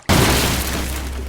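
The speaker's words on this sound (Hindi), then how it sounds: "और फिर अचानक एक जोरदार धमाका होता है।" A single loud, sudden boom bursts in after a moment of near silence, then a heavy rumbling roar sustains and slowly fades without cutting off.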